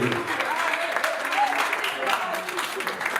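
A crowd claps steadily at a Prestige Center and Canal Plus touring event in the Gôh-Djiboua district, a continuous patter of many hands with voices mixed in beneath.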